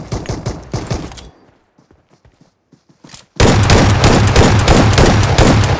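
Bursts of gunfire in a mobile battle royale game played on an iPhone 13, loud rapid shots at the start, a quiet gap with scattered faint clicks, then a dense, sustained volley of fire to the end.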